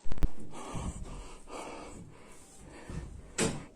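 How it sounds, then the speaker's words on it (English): A frightened man breathing heavily in a recording, several loud ragged gasping breaths close to the microphone, including a sharp gasp at the start and another near the end, with no speech. "You can hear it in his breathing before he even gets to the bathroom."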